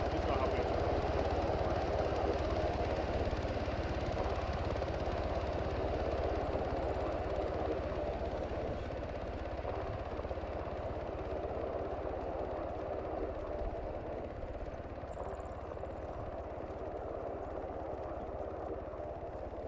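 Helicopter at a 3rd Infantry Division end-of-deployment military ceremony, a loud, steady rotor and engine drone that continues unbroken throughout.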